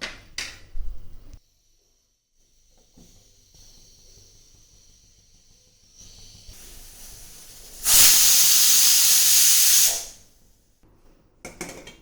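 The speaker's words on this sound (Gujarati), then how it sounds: "હવે આપણે તેને 2 થી 3 વિસલ વગાડશું." Pressure cooker whistling while cooking a Gujarati vegetable curry of brinjal, valor beans, potato, tomato and fenugreek: a loud, steady hissing whistle of about two seconds rises above faint kitchen noise, with brief clatters before and after.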